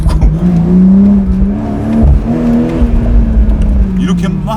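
A BMW Z4 M40i roadster, top down, accelerates hard in second gear, its exhaust a loud, deep, rising drone with a brief shift-like dip midway, while someone talks over it.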